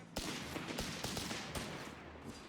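Rapid rifle volleys from Grenadier infantry in Company of Heroes 3, a dense run of sharp cracks and bursts repeating over a steady battlefield rumble, fairly loud and with no voices.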